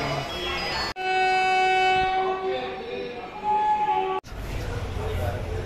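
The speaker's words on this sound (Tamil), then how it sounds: "ஒரு 10 மினிட்ஸ் டிலேயோட நம்மளோட வண்டி வந்துருச்சு" Passenger train pulling into a station, its horn sounding a long steady tone for about three seconds between louder station noise and rumbling carriages, with voices talking underneath.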